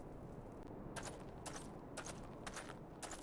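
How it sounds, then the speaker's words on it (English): Distant cannon fire in Final Fantasy XIV, a series of sharp, faint booming blasts spaced irregularly over a low background hum. "I thought I heard the terrible din of cannons being fired."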